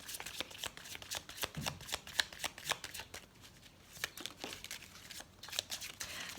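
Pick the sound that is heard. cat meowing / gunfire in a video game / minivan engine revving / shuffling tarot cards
shuffling tarot cards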